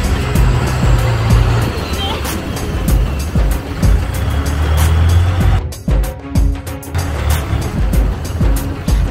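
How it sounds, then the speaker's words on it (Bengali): A motorboat speeds along the Chao Phraya River in Bangkok, its loud engine roar mixed with rushing water and strong wind buffeting, with talk underneath and a brief dropout partway through. "মূল নদীতে এসে নৌকাটি প্রচণ্ড জোরে চলতে শুরু করেছিল"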